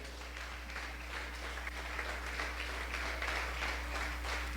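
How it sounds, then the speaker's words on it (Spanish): Faint, distant applause from a church congregation continues steadily throughout, over a low constant hum. "Dele un aplauso al Señor para siempre."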